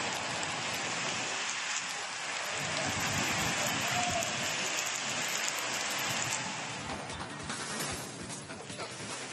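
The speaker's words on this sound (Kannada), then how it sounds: "ಮೈಸೂರು ಜಿಲ್ಲೆಯಾದ್ಯಂತ ಮಳೆ ಅಬ್ಬರಿಸಿ ಬೀರಿತಾ ಇದೆ" Heavy monsoon rain pours steadily across Mysuru district, Karnataka, in a dense, continuous roar, loud and close, with no voices and only slight swells in intensity.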